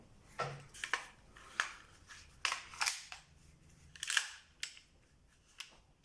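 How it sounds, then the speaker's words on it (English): An empty magazine clicks and clacks against a pistol in a quiet room, with several sharp metallic snaps spread unevenly over a few seconds. "I'm going to go get an empty mag quickly and put it in"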